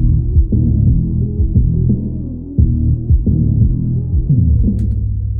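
A dense, muddy music mix where each kick drum hit makes the low end throb and wobble, with layered bass tones smearing together, loud and continuous with no voices.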